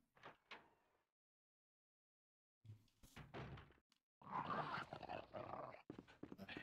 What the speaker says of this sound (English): I hate that dog.